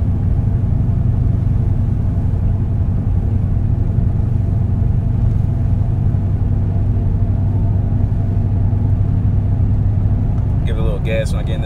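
A Nissan Titan pickup driving on a road with a bad tire, giving a loud, steady low rumble throughout, with a brief higher sound near the end.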